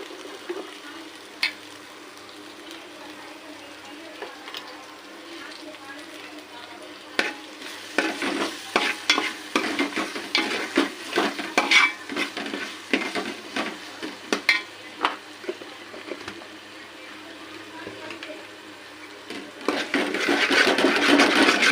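Mutton masala fries with a tablespoon of ghee for mutton dum semiya, a soft sizzle at first, then irregular spoon scrapes and knocks against the pan, with the frying growing louder at the end.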